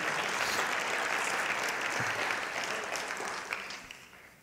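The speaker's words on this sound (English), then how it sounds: "let's give our visitors a good hand clap" A congregation at a Tuesday evening church service claps for visitors, a full, bright burst of applause from many hands that stays strong and then slowly thins out toward the end.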